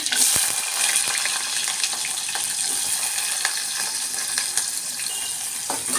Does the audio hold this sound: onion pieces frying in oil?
yes